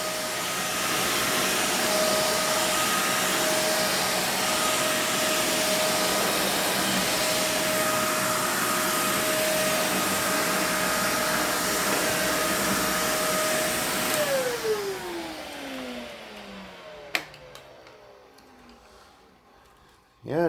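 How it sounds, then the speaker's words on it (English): A Kenmore Intuition vacuum cleaner runs steadily over carpet with a loud, constant whine, then powers down, its tone sliding lower as it winds to a stop, followed by a couple of sharp clicks. "it doesn't seem to do too bad sweeping the carpet"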